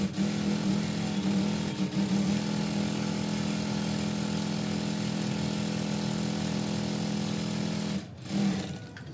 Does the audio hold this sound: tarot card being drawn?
no